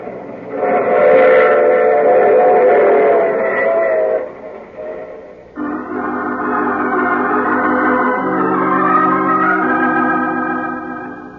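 A train rumbles along steadily, loud and close, while a long whistle sounds over it, shifting pitch partway through.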